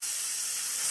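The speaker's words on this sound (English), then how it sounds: "have now this wonderful, wonderful, wonderful sizzle" Ground beef sizzling in a skillet over mixed vegetables, a steady, close hiss of frying fat with no talk over it.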